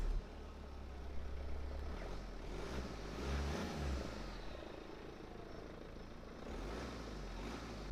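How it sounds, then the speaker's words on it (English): Steady low diesel engine drone of a BMW F30/F31 3 Series M Sport on the move, loud and continuous, with a slight swell midway and road rumble underneath. "counteract that diesel loud engine noise"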